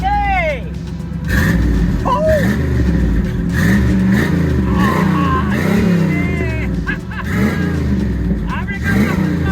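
A big 7.4-litre 454 engine in a Chevrolet SS pickup revving hard and loud nearby, rising and falling in repeated roaring pulses with people talking over it.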